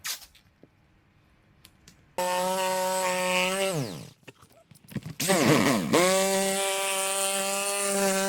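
Power drill boring through an RV roof to fit a Dometic Penguin II air conditioner: two loud whining bursts of several seconds each, pitch dipping as the bit bogs, with a short pause between.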